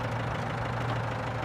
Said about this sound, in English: I'm just moving the tractor out of the way so she can back the truck in here